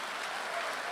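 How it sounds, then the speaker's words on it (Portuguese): Steady applause from a church congregation fills the short moment, a dense continuous wash of clapping at moderate level with no voices over it. "Não aplaude, não."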